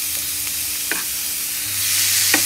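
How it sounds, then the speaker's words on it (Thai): Light crackling and faint scraping as bee larvae dry-roast in a hot pan, with a few soft stirring clinks, no talking. "ตั้งกระทะให้ร้อนนะครับแล้วก็ก็จะคั่ว คั่วให้เขาสุกนิดนึง"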